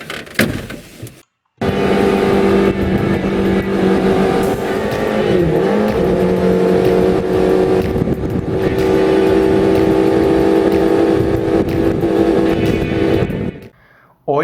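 Gurgel Super Mini fitted with a Suzuki Bandit 600 motorcycle engine driving past, a loud sustained high-revving buzz with pitch shifts as it accelerates, after a brief quieter lead-in.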